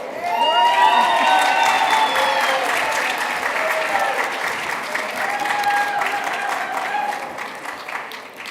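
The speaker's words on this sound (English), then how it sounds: "a hand of applause for our Hall of Fame inductees" A luncheon audience applauds Women's Hall of Fame inductees, with full clapping mixed with cheers and whoops that peaks early, then eases into steadier applause with a few voices calling out.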